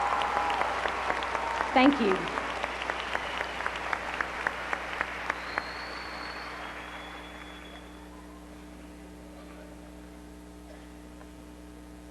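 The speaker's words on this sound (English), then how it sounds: "Can we all have a round of applause for our teacher," Crowd applause for teachers at a 1998 Boone High School graduation, a fairly thin clapping from a large hall that tapers off into quiet room hum, with a brief word of thanks spoken near the start.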